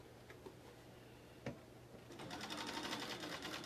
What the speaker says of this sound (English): now I'm going to sew on the other side of my foot